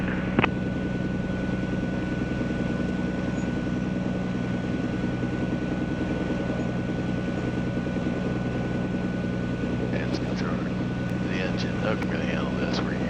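Cirrus SR22T piston engine idling and running up toward 1700 RPM during a pre-flight check, a steady close drone heard from the cabin, with people talking over the headset.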